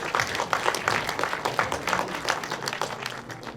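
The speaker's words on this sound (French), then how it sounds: "on peut l'applaudir" Crowd applause at a live quiz event during a horror festival show, a dense steady patter of many hands clapping that holds through and tapers slightly at the end.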